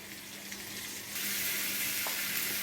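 Pulled pork searing in a pan, a steady broadband sizzle that swells louder partway through, fairly close and without talk.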